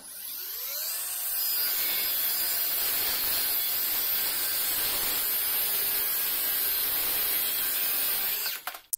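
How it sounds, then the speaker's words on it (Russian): A circular saw cuts through a piece of wood with a loud, sustained whine that spins up at the start, holds steady for several seconds, then cuts off abruptly. "я все-таки попробую это сделать при помощи циркулярной пилы"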